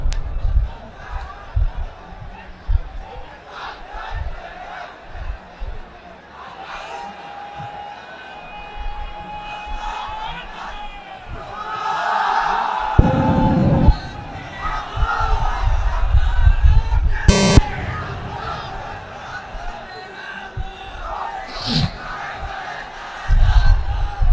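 A large crowd at an open-air religious gathering, the Azhari mahfil in Lalmonirhat, roars back in response to a takbir chant, with loud swells of many voices between stretches of a single voice.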